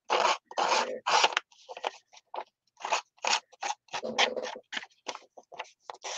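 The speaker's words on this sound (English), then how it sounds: "I've got a pair of scissors here." Scissors rough up the edge of a paper collage piece in quick bursts of snipping and scraping, close and crisp, with short pauses between strokes.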